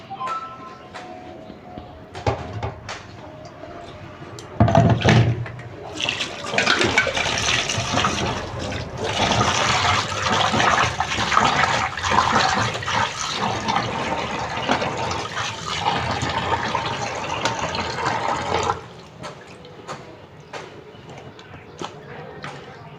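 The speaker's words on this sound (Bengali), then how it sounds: "এখন আমি চিংড়ি মাছটা ধুয়ে নুন হলুদ মাখিয়ে নেব।" Tap water runs steadily for over ten seconds while prawns are washed in a home kitchen, a loud rushing stream with splashing, preceded and followed by quieter handling noises.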